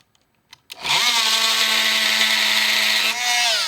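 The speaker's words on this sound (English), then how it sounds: "it's a reciprocating saw. It goes back and forth like that." A reciprocating saw cuts into aluminum after a couple of clicks, its motor starting with a sharp rise into a loud, steady, buzzing whine with a bright metallic rasp, running continuously close up.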